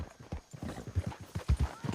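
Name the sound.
horse hooves riding in Red Dead Redemption 2 video game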